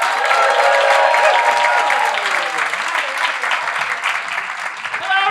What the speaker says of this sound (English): Clap those hands for the very funny Tim Bridge.